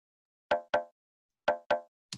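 A tom-style percussion loop for a tech house drum pattern: clean, pitched hollow knocks in pairs, then a repeat of the pair, with a final shorter hit, crisp and isolated against silence.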